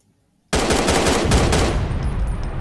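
Sustained video game gunfire aimed just above a barrel, a loud burst of rapid automatic shots starting abruptly after a brief silence and continuing dense and close throughout.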